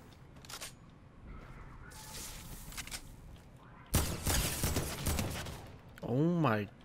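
Video game gunfire from a building-style shooter crackles in short bursts, with a loud volley in the middle and a separate rising tonal effect at the end, under a low murmur of player talk.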